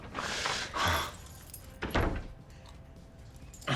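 Keys jangle in a few short metallic bursts near the start, with another rattle around the middle and a quick clink at the end, close and fairly quiet.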